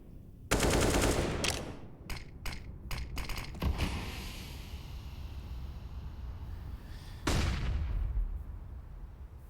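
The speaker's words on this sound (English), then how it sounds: "Couple of quick shots just to signal the positioning and give them a full sense of security over toward Monster" Gunfire in Counter-Strike on the Overpass map during an ESL Pro League playoff match: a sharp rapid burst of shots, then a few quick single cracks, a lingering rumble and another loud burst near the end, with no talk.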